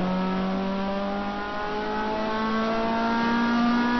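Onboard a stock car during a race lap, the engine drones loud and steady, its pitch climbing slowly as the car accelerates down the straight.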